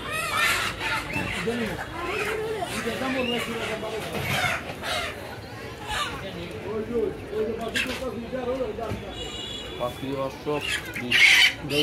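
Country chickens cluck and squawk at a busy poultry market, scattered calls close by and farther off, heard under near-constant talk from people nearby.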